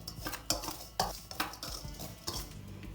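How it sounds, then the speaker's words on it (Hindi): Gram flour and spices stirred together in a bowl with a spoon, giving a series of close, sharp clinks and scrapes of utensil against dish at an irregular rhythm, with no voices. "और इनको हम अच्छे तरीके से मिक्स कर लेते हैं।"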